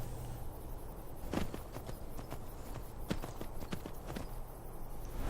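Horse hooves clip-clop at a steady walking pace in the video game Skyrim, a run of close, distinct thuds repeating over continuous ambient game background without talk.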